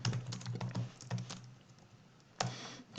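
Close computer keyboard typing as Python code is entered, in a few quick bursts of clicks followed by a quieter gap and then one sharp keystroke, with no voices.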